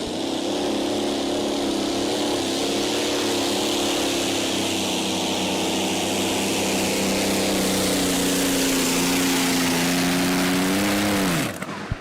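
Pulling tractor engine at a tractor pull run in Putten, roaring loud and steady with a strong droning harmonic note held throughout, the pitch rising and sagging slightly before the engine cuts off abruptly near the end.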